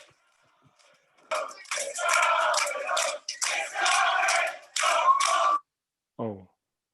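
Cheering from a crowd in the background, several bursts of distant voices rising and falling over a few seconds, ending with a short tonal cry.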